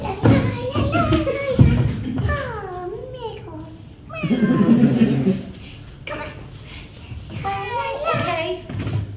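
A performer in a live theatre show in Belfast imitates a cat with several drawn-out, wavering meows between bursts of talking, as a playful, chuckling exchange carries on around them.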